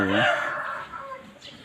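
A rooster crows loudly up close at a cockfighting pit beside a pig pen, a strained drawn-out call that fades into softer clucking and faint background noise.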